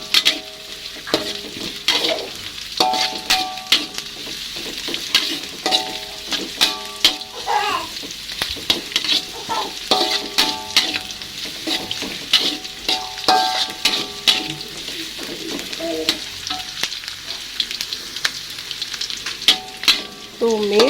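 Garlic and shallots sizzle steadily while frying in a pan for a sardine dish, with repeated scraping and clinking as a spatula stirs them, close and fairly loud throughout.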